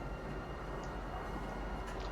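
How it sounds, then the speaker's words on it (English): A train runs along a rail line in the Star Citizen video game, a steady, continuous rumble with a faint high whine, alone and with no talk. "you have to remember this train, it just runs back and forth"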